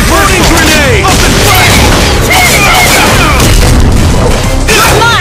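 A grenade goes off in a fighting video game amid a loud, dense wash of booms, crashes and gunfire-like bursts, with excited game voices shouting over the constant heavy clamor.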